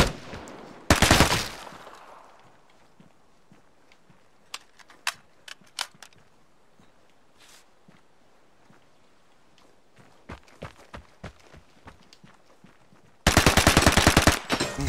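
Gunfire in the video game Vigor: a loud burst of rapid shots near the start, scattered sharp clicks and taps through a quieter middle, then another sustained fast automatic burst at the end.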